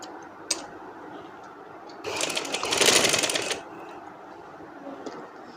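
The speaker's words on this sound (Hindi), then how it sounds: "अब इधर से ऐसे फोल्ड करते जाएंगे और सिलाई लगाते जाएंगे।" A sewing machine stitches fabric for a designer dress with square sleeves. One rapid mechanical run lasts about a second and a half, framed by quiet room sound and a few small ticks.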